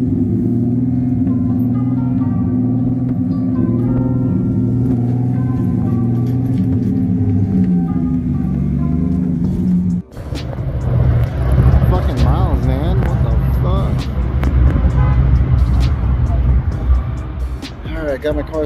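A Mazda RX7 drift car heads out on warm-up laps: a steady low engine drone gives way, after a brief drop, to louder, rougher revving with rising and falling pitch as it drives off.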